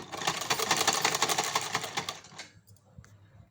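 A sewing machine stitches strips of fabric with a steady, fast mechanical rattle for about two and a half seconds, then stops, leaving a few faint clicks and handling sounds.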